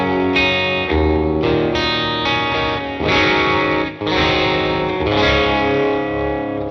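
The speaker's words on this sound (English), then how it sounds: "It's a kind of sort of indie guitar sound that I like." A slightly overdriven electric guitar through a NUX AC30 amp model strums chords with a chorus-like shimmer, loud and sustained, with brief gaps between strums.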